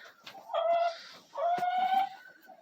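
Chickens cluck close by, with two drawn-out, rising calls and a few shorter clucks in between.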